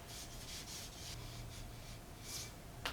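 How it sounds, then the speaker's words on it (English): A hand rubbing over rusty metal to weather a pair of bone claws: faint, soft repeated swishing strokes in a steady back-and-forth rhythm, ending with a small sharp scuff, with no talking. "Just rub my hand on some rusty metal."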